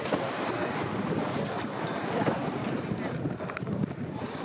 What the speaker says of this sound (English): we're going to take a ferry to the island. It's cold, it's windy